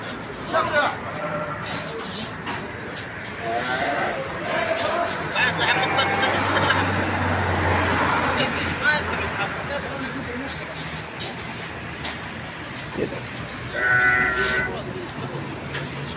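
Goats bleat now and then amid a busy outdoor crowd murmur and people talking at a goat market in Madina, Saudi Arabia, with one louder bleat near the end.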